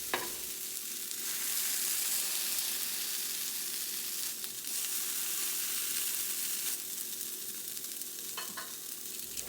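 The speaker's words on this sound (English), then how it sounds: "I'm just moving the French toast around just to, you know, collect up the little butter that's there" Peanut butter and banana stuffed French toast frying in butter in a pan, a steady close sizzle broken by occasional scraping bursts as the slices are shifted around.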